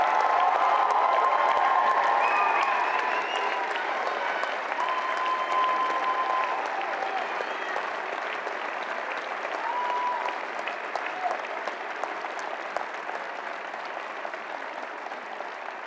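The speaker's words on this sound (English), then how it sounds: "Let's give another round of applause to the class of 2025." Sustained audience applause for the graduating class of 2025 at a law school commencement, a dense wash of many hands with a few cheers and whistles early on, loud at first and easing slightly toward the end.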